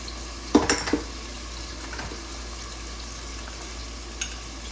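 Onions frying in a pan with salt, cumin, turmeric and chilli while eggplant bharta is cooked, giving a faint, steady sizzle under a couple of brief clattering knocks near the start and one soft clink later.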